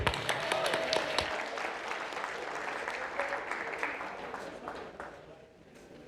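An audience at a World Safety Day event at a construction project claps for a speaker, steady applause that gradually thins and fades out over six seconds.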